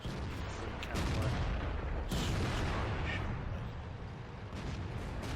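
Tank cannon fire and battle noise in the Ace Tankers video game, a dense, continuous rumble of booms and blasts with a few sharper cracks standing out.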